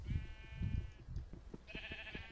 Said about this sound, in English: The poor sheep.